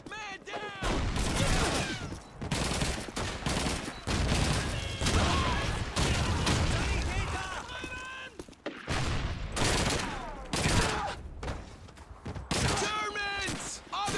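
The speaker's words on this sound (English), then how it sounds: "Machine gun MG-42!" Machine gun fire from an MG-42 in the video game Call of Duty during a river-crossing battle, sustained rapid bursts mixed with other gunshots and shouted soldier voices, dense and loud throughout.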